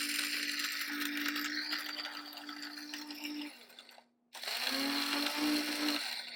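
An electric grinder whirs loudly while grinding whole garam masala spices including cardamom and bay leaf, a steady buzzing hum with rattling, cuts out briefly, then starts up again at full speed.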